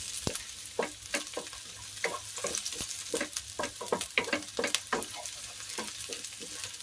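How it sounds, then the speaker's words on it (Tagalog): Squid with sliced chili sizzles in a hot pan while being stirred, with repeated scraping strokes of a spatula punctuating a steady frying hiss, close and clear with no talking. "Mabilis lang ang pagluto guys ng pusit."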